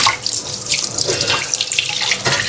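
Two eggs are rinsed under a running kitchen tap, water splashing loudly and steadily into the sink, close up and with no talking.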